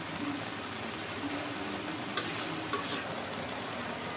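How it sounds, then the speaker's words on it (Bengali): Pumpkin leaf greens are stirred and turned in a pan over high heat, a steady soft sizzle with a couple of faint scraping taps from the utensil. "উল্টে পুলটে আমি একটু মিশাই দিচ্ছি"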